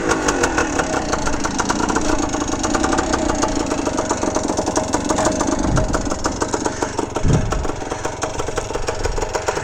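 A 1970 Yamaha RT1 360 two-stroke motorcycle engine idles steadily and close by, with an even burbling throb and a couple of brief low thumps partway through.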